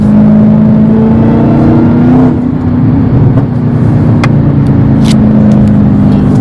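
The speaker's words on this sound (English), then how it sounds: "Man, this Hellcat sounds good." A loud Dodge Hellcat engine rumbles steadily up close, with a brief rev partway through and a deep, throaty idle throughout. No one speaks.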